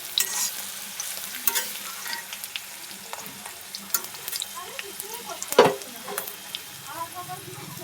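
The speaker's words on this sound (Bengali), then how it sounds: "ওই তেলে একটু পাঁচফোড়ন দিয়ে বসিয়ে দিলাম" Panch phoron spices sizzle in hot oil in a home kitchen, a steady low crackle with light stirring and scraping throughout, and one brief louder clatter near the end.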